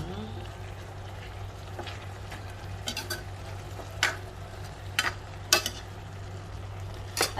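A spoon stirs chicken liver adobo with carrots and potatoes in a pan, giving occasional soft scrapes and clinks against a steady low hum and faint sizzle.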